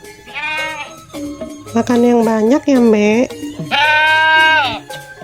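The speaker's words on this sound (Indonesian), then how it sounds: "Terima kasih Bang Ondel-Ondel sudah mau beli kambing di sini." A cartoon goat, bought for a Qurban sacrifice in an Ondel-Ondel Betawi drama, bleats in two loud, drawn-out wavering calls, and a voice speaks between them.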